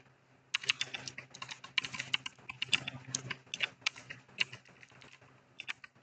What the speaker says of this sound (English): You just have to type the name of your previous session here.